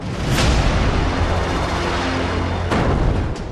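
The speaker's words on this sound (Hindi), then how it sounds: "टाइगर टॉप पर भारी बमबारी जारी थी" Heavy artillery bombardment on a mountain peak during the Kargil war, a continuous loud rumbling roar with sharp booming blasts near the start and toward the end, with no voices.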